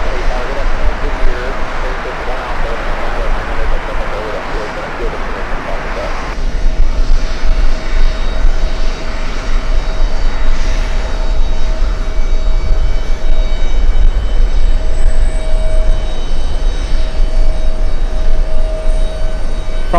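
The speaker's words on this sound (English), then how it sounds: "And here comes the Mexican 787, Aeromexico, flying in from Mexico City." An Aeromexico Boeing 787 Dreamliner landing at JFK airport on a hot summer day produces a loud, sustained engine roar and whine that grows stronger as it passes close by, with a voice talking over it throughout.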